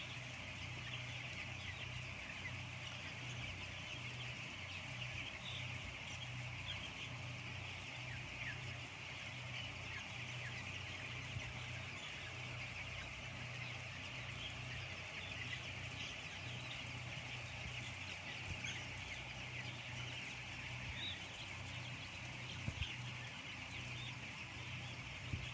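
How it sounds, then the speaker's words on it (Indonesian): Thousands of 13-day-old broiler chickens in a closed poultry house make a dense, constant chorus of cheeping and clucking over a steady ventilation-fan hum, unbroken and distant-sounding throughout. "Ayamnya di boom lagi sama pakannya yang berupa pelet."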